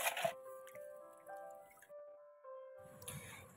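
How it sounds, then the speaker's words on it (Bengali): Raw meat washed under an outdoor tubewell tap, with scattered drips and a light trickle, then a fuller gush of splashing water near the end, close by and fairly faint. "টিউকলে এসে মাংসটা ধুয়ে নিলাম"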